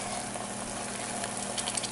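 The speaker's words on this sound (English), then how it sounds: "You're going to want to pour it onto the pan. And you hear that? It's kind of sizzling." A breakfast burrito egg mixture sizzles in a pan on a stovetop set to about 3, a steady close hiss of frying with faint crackles and no talking.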